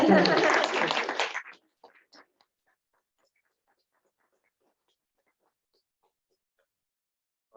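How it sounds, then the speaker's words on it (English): Brief applause from attendees at a community meeting, a dense burst of clapping lasting about a second and a half, then dying into a few scattered claps and near silence. "Group one got a round of applause. I want to make sure group four got one."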